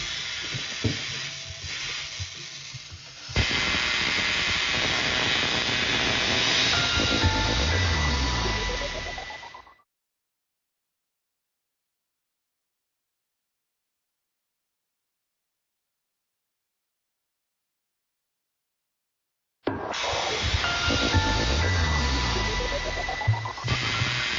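A homemade reproduction of a Tesla-style wireless transmitting machine, running at about 150,000 volts, gives off a loud, harsh hissing roar that cuts off abruptly, leaves a long silence, then bursts back to full strength.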